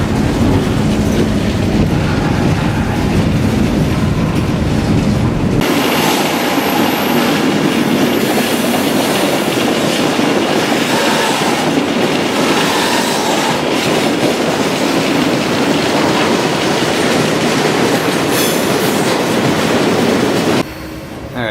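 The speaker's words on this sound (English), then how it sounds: "Now the train is almost at the famous Kiddie" A freight train rolls on at night near the Kiddie Wye by the Feather River, heard from on board, with loud continuous rumbling, clickety-clack of wheels on rail joints and faint wheel squeal, fading abruptly near the end.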